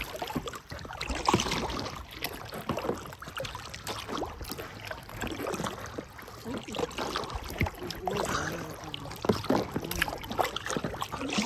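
A Kokopelli packraft is paddled across water, with soft irregular splashes and trickling drips from the paddle strokes, close and fairly quiet, no talk.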